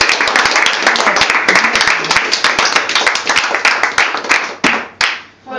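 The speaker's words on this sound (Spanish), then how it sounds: "Un aplauso para General Varela, por su gran trabajo." A group applauds General Varela, with rapid, lively clapping from many hands that thins out into a few scattered claps at the end.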